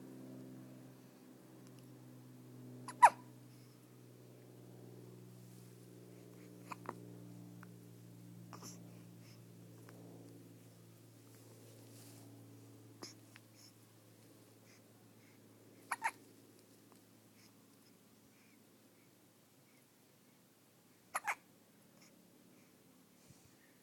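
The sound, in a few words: baby hiccuping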